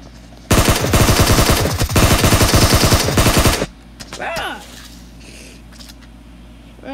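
Automatic gunfire in the mobile battle royale game PUBG Mobile rings out as a loud, rapid three-second burst of closely packed shots, followed by quieter scattered in-game sounds.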